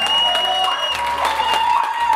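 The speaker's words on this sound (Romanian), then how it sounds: "Aplauze pentru băieții la Cristal." Applause from guests at a wedding party in a restaurant, steady and dense for a couple of seconds over faint background music, with no clear speech.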